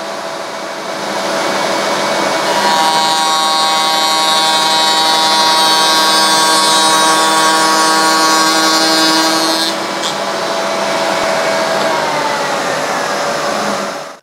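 A router table cuts a piece of scrap wood while a Hoover vacuum extractor runs, giving a loud sustained motor whine with a harsher cutting roar for about eight seconds, then a brief dip and the steady extraction drone continuing to the end.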